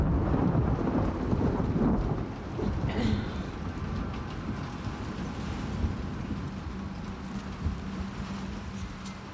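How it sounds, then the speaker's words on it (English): A thunderstorm rolls through a mountain setting in The Last of Us Part II, deep rumbling thunder loud at first and easing into a low continuous roar of rain. "Really get a lot of thunderstorms here now in the mountains"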